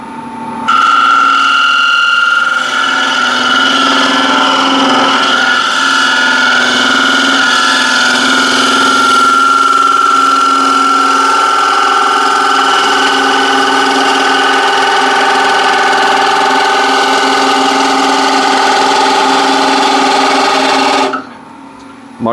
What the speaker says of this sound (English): This is where I'll use this gouge and with a really long bevel, 16 mil diameter, and we'll see what that will do